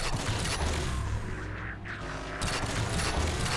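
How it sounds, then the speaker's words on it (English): Sentinel beam weapons firing in Halo 4, a dense, sustained crackling and buzzing energy stream that stays loud and continuous, briefly thinning in the middle before surging back. "It looks like they fire just super sentinel beams."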